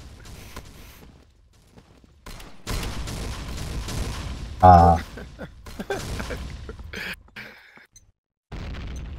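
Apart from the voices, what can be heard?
gunfire and explosions in video game Combat Arms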